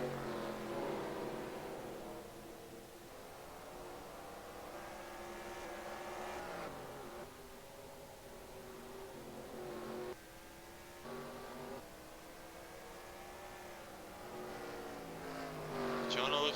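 Race cars in NASCAR Racing 2003, on the Knoxville track, drone and rise in pitch as they circle, fairly faint with gear shifts and passing surges, under commentary talk throughout.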